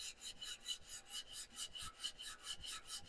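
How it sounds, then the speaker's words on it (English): A wooden spurtle being sanded with the grain on a lathe, a quiet rhythmic rasping rub repeating about four times a second, close and alone. "I'm going to go ahead and sand with the grain"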